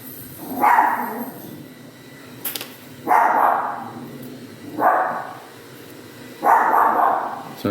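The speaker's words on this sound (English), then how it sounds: "Sorry about the dog." A dog barks in four separate bursts spaced a couple of seconds apart, moderately loud and somewhat distant, heard indoors while someone is painting a miniature model, with no talking.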